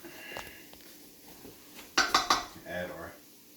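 A spoon stirs and scrapes around a small crock pot of quinoa and sweet potato chili, with a quick run of three sharp metallic clinks against the pot standing out near the middle, and faint rustling before and after.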